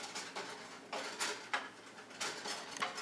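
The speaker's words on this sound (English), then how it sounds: "Stir it up really well." Fettuccine tossed with asparagus, peas, garlic and lemon juice being stirred in a pan, giving soft scraping and clinking of utensil against cookware in several short bursts, fairly quiet with no talking.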